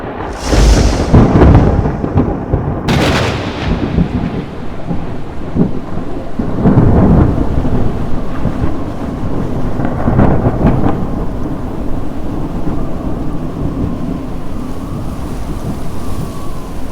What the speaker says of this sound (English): Afternoon clouds roll in across the forest, setting the stage for a downpour.